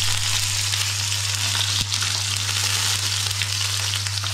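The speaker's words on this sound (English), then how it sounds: "Drop the colorful peppers into the pan." Colorful peppers fry in a hot pan, giving a loud, dense, continuous sizzle with a steady low electrical hum underneath and one brief click partway through.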